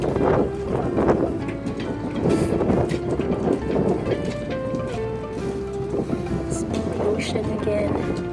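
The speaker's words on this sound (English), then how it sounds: "It's called Gale Force Wind." Gale-force wind buffets a boat and the microphone, producing continuous loud rumbling gusts, while people talk intermittently over the roar.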